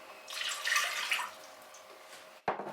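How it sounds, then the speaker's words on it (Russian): Water is poured into a pot in a short splashing stream that tapers off, followed by a brief clunk. "В кастрюлю выливаем воду."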